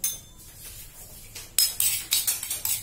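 A spoon clinks against a bowl while tamarind is mixed with chili and salt, quiet scraping giving way to a run of sharp, close metallic taps in an uneven rhythm.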